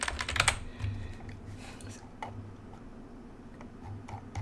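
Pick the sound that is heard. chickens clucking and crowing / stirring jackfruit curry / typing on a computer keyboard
typing on a computer keyboard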